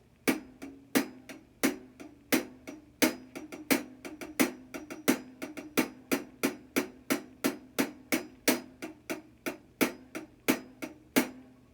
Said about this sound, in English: hit it on the top portion of the hi hat